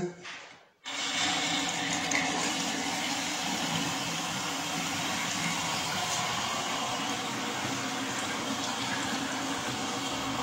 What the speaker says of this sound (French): on va ouvrir la flotte, et puis ben, on va tester l'évacuation